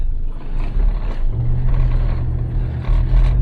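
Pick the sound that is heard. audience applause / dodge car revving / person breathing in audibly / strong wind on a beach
dodge car revving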